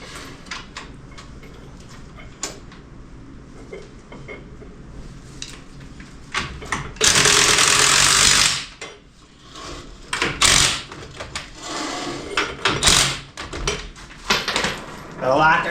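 A ratchet wrench works lug nuts on a rusted 1957 Chevy frame, giving ticking clicks and knocks with a loud, harsh metallic burst partway through, while people talk nearby.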